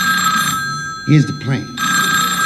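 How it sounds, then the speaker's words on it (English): An old-style telephone bell rings loudly as a comedy sketch sound effect, rapid continuous ringing that cuts off briefly while someone speaks, then resumes. "I think I hear your pipe ringing"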